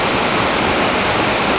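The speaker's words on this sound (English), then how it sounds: "so we're gonna add some of this water" Water poured into a cooking pot of backpacking cheeseburger macaroni, a steady close rushing splash holding evenly for under two seconds with no talk.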